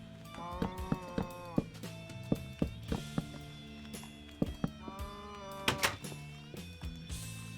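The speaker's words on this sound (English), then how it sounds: "Man, these cows are noisy in this version of the game." Cows moo repeatedly in the Minecraft video game, several drawn-out calls overlapping one another, loud and close, with soft thumping footsteps underneath.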